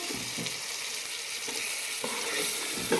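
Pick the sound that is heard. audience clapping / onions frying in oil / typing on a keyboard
onions frying in oil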